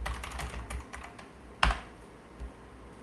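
Quick, uneven computer keyboard typing, close and fairly soft, with one louder key clack partway through.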